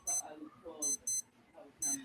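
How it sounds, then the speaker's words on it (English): Faint electronic beeping in short double bursts, a quick pair followed by another pair, with soft background rustle and noise between them. "There is a beeping noise in my house."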